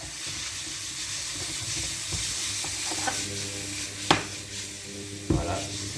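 Meat browns in a hot pan for a French blanquette, with a continuous close sizzle and hiss broken by a few sharper scraping stirs and spatters, with no voices.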